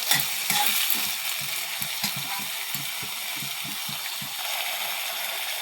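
Elephant foot yam curry with salt being stirred in a hot pan: a continuous bright sizzle with rhythmic low scraping strokes of the spatula, close and fairly loud.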